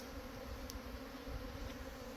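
A swarm of honey bees settling on a large tree gives off a steady, faint, continuous buzzing hum with no pauses and no voices.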